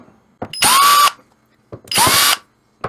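Cordless power drill backing screws out of a Pac-Man arcade control deck, two loud whirring bursts of about half a second each with a short pause between, close up and with no talking.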